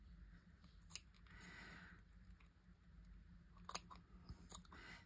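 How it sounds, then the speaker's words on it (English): Scissors snip tea bag paper, trimming a strip of green, in a quiet room. There are a couple of faint, sharp clicks of the blades and soft cutting rustles between them. "Let's cut that little bit of green off there."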